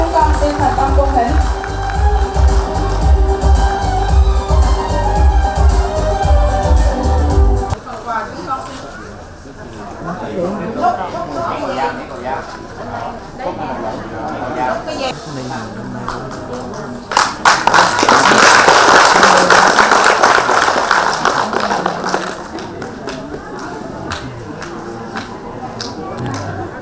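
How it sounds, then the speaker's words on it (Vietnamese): An assembly at a Buddha's Birthday ceremony in a hall gives a burst of loud, dense clapping for several seconds. It comes after stretches of music and murmuring voices. "Một tràng pháo tay nữa từ hội chúng"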